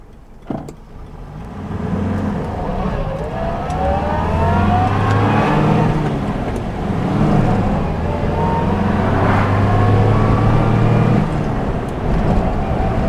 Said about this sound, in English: I'm revving it a little bit, but that gorgeous little whine from the gearbox